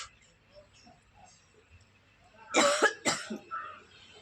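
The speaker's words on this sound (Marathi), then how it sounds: "मला खोकला आहे खोकला येतोय" Two sharp coughs burst out close by after a few quiet seconds, followed by a brief throaty sound.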